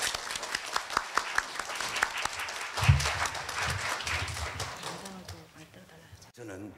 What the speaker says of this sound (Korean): 다시 한번 박수로 부탁드립니다.